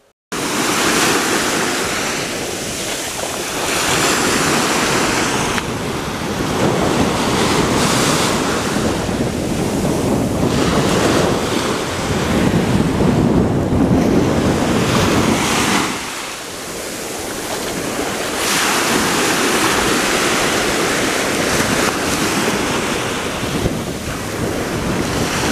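Ocean waves wash steadily onto a beach in Spain, a loud continuous roar of surf that swells and recedes in long surges, with heavy wind buffeting the microphone and no voices.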